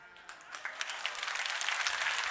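Audience clapping at a company presentation, starting sparse and swelling into steady applause from a room of listeners.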